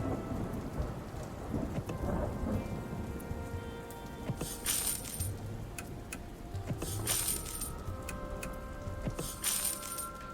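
Steady rain pours in the hills of the post-apocalyptic trucking game Dustland Delivery, with rolling thunder and bright crackling strikes recurring every couple of seconds over the constant downpour.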